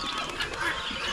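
Flock of turkeys on a farm, a dense overlapping chatter of gobbling and clucking calls, steady and fairly close, with no clear talk.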